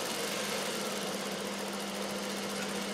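A sewing machine runs a double stitch line on blouse fabric, giving a continuous close, loud mechanical whir with a fast, even rhythmic hum and no voices.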